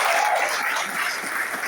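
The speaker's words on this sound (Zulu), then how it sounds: "Bashayeleni ihlombe kakhulu abantu." Applause from a church congregation for young people at a youth service, a steady wash of clapping with no distinct individual claps, continuous and fairly even in loudness throughout.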